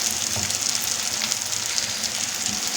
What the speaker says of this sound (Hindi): अब मैं हाई फ्लेम करके थोड़ा सा इसकी भुनाई करूँगी।